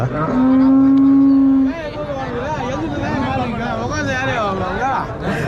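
Cattle at a native-breed livestock market in Uthangarai, including crossbred and Jersey cows, give one long, loud, close moo, followed by a bustling background of crowd chatter and other animals while someone talks.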